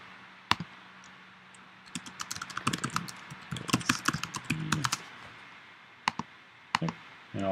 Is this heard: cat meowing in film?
no